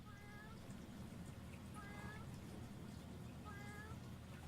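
A cat in the video game The Incredible Adventures of Van Helsing Final Cut meows three times at a steady rhythm, faint over a constant rushing, watery background.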